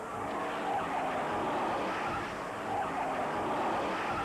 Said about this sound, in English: The red car slides along the wall right past this camera until it finally stops.